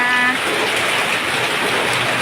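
Heavy rain pours down at a garden house beside a canal, a dense, steady hiss of drops drumming on surfaces, loud and close, with a brief tonal sound at the very start.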